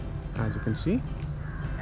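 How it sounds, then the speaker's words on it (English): Birds calling at a coffee plantation in Sakleshpur, with a crow-like caw and a short rising call standing out near the mic while a person speaks briefly over them. "No, actually you can hear the bird chirping."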